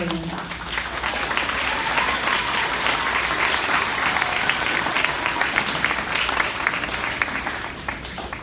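A graduation audience at a sixth-grade ceremony claps steadily and fairly loudly for several seconds, with a brief voice at the very start before the applause fills the room.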